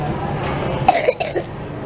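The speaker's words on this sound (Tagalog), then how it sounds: "May ubo ako." A single short cough, close to the listener, with faint background chatter around it.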